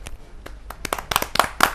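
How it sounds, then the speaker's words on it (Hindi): A few people at a Kavi Sammelan poetry gathering begin clapping for a poet, scattered claps that thicken into brisk applause over under two seconds, close and fairly loud. "आपकी जोरदार तालियां बजे"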